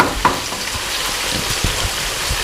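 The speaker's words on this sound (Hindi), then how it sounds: "गोश्त को दोनों तरफ से अच्छी तरह फ्राई करना है।" Meat sizzles and fries steadily in a karahi for an achari karahi dish, a close, constant crackling hiss with occasional stirring knocks.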